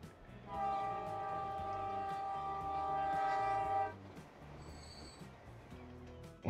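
Intercity trains pulling out in the video game Transport Fever 2: a loud, sustained multi-tone horn sounds for several seconds over rolling rail rumble, then fades to lighter running noise with a brief chime.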